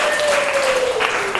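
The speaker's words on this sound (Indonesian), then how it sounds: "Oke, tepuk tangan untuk diri." Students in a classroom clapping for themselves, a brief burst of dense clapping with a voice speaking over it.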